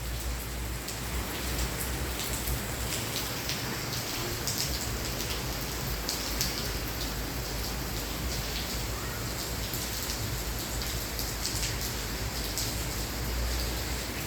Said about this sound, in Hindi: उतनी देर से बारिश लगातार पड़ रही है